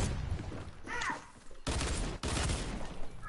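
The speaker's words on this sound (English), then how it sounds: "I'm getting heavy sniped." Sniper and rifle fire in an online squad shooter game, sharp broadband cracks and bursts in close succession, loud and sustained with brief gaps, while a voice talks faintly in the background.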